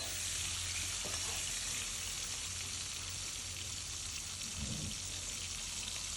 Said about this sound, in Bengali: কড়াইতে তেল গরম হয়ে গেছে, ডিমগুলোকে হালকা করে ভেজে নিচ্ছি।